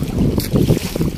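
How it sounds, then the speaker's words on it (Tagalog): Strong wind buffets a fishing boat at sea during a storm, a steady rushing roar with gusty mic buffeting and low wave wash, no voices. "lumakas ang hangin."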